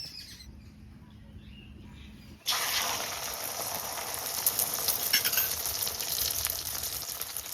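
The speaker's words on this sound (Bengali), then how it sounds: "কড়াই গরম হয়ে গেছে, তেল দেবো" Oil hitting a hot wok before eggs are fried: after a quiet start, a sudden loud burst of sizzling erupts and settles into a steady, close, crackling hiss that continues to the end.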